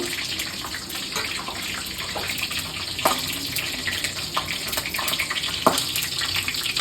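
Meat goes into hot spiced oil in a wok, giving a continuous close hiss and sizzle with occasional sharper spits and pops, and no voices.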